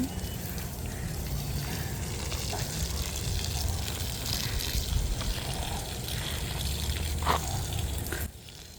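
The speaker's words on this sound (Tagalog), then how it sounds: "Yan tubig na yan mga kadyali, nanggagaling sa fish pond." Water flowing from a fish pond, a continuous trickling and gushing wash, fairly close and steady, easing off near the end.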